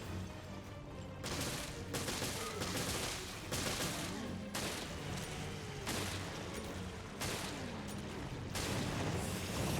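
Rapid bursts of gunfire from the video game Resident Evil Revelations, loud and dense volleys repeating across the whole stretch with brief gaps between them, no talk over it.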